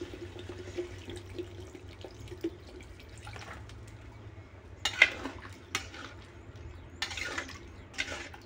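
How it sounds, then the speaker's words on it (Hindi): Water poured into a cooking pot of potatoes and wild tula greens, a traditional western Odisha dish, with a few sharp splashes and clinks over a low steady background hum. "सीझापी पानी देदेवा"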